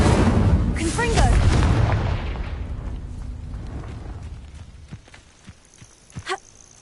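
A Confringo blasting curse explodes in the video game Hogwarts Legacy: a loud, booming blast opens and slowly rumbles away over several seconds, followed by a few fainter thuds and a short crackle near the end.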